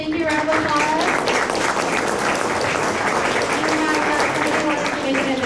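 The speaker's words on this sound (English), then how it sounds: "So thank you, round of applause." An audience applauds after a talk at an AI conference for enterprise developers, dense sustained clapping from a crowd that holds steady and loud throughout, with voices mixed faintly underneath.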